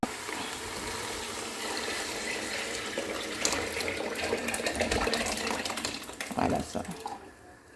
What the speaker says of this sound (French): Je vais ajouter un peu d'eau ici aussi. Pour rincer dans la cuvette.